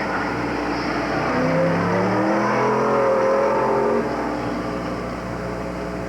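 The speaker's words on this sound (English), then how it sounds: "Next on the grid, Joe Ullman in his Corvette" A stock Corvette at a 1988 Canadian Solo 2 national autocross, its engine note rising and falling as the car accelerates past fairly close, loud and alone for several seconds before easing off.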